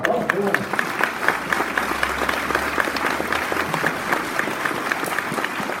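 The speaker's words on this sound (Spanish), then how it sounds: "Aplausos" An audience claps at a Catholic preaching event, a steady, crowded patter of applause that holds level throughout, with voices and some talk mixed in underneath.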